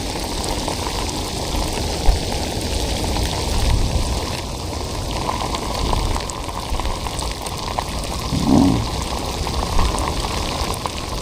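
Heavy rain pouring steadily during a storm with flooding, a dense, loud, continuous hiss of drops on surfaces and water, with no break throughout.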